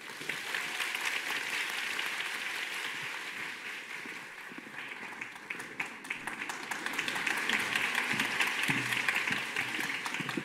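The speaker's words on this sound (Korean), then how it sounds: "큰 박수 부탁드립니다." An audience at a musical awards ceremony claps steadily and evenly, a dense wash of applause that swells a little louder toward the end.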